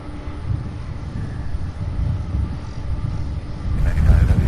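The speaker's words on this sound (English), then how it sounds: "UPS 2957, a 27-year-old Boeing 767-300" A 27-year-old UPS Boeing 767-300 jet arrives at Louisville's SDF hub, its steady low engine roar holding throughout and swelling louder near the end.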